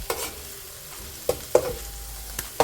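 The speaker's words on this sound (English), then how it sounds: "the garlic and the thyme, and I'm just going to throw them in together" Garlic and thyme fry in oil in a pot with a soft steady sizzle, broken by several sharp knocks and scrapes of a spoon against the pot.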